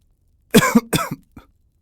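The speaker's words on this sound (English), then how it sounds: "Another man coughs, a wet, rattling sound that speaks of sickness" A close, loud, wet cough in two harsh bursts, followed by a faint rattling wheeze.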